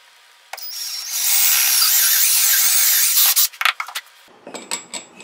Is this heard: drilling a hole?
yes